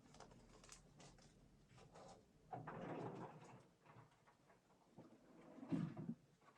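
Drawer in a shop sliding open and shut during closing time, a few soft wooden knocks and scrapes at close range, with light handling noises around it and a louder thump near the end.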